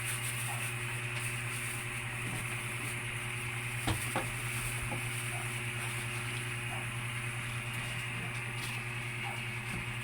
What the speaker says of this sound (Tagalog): Kailangan halu-haluin.